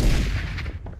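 A dense burst of rapid gunfire in the video game Farlight 84, loud and close, crackling over about a second.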